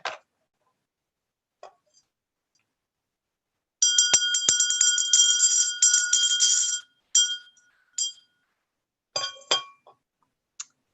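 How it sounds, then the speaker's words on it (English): A small church bell rings during a Sunday service in a rapid, shimmering run, then gives a few scattered clear strikes with quiet gaps between them. "the ringing of the bell"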